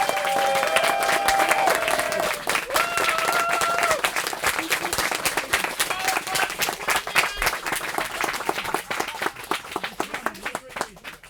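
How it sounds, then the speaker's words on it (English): An audience at an awards evening applauds loudly and steadily, a dense crowd of clapping hands filling the room, with a few voices and shouts rising briefly over the ovation. "So big round of applause, please."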